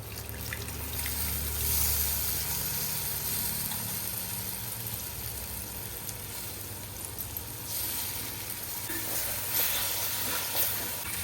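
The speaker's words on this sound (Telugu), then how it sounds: "ఇప్పుడు చింతపండు పులుసు పోసుకుందాం" Tamarind juice hits a hot pan for Telugu fish pulusu, giving a steady, fairly loud sizzle and bubbling hiss with a low hum underneath, continuous for the whole stretch with no talking.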